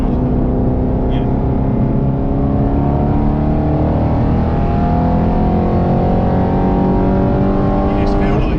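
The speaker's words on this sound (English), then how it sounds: "It's the noise is making it feel quicker though." An Aston Martin Vantage GT8 engine roars loudly from inside the cabin as it accelerates, its rising, sustained drone building steadily through the gears with no break.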